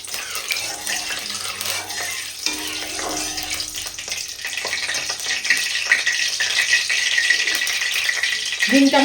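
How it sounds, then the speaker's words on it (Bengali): Duck eggs frying in hot oil in a wok with dried chilli, bay leaf and cumin, a steady bright sizzle and crackle that grows louder toward the end, with a soft voice underneath. "ডিমটা আমি ভেজে নেবো।"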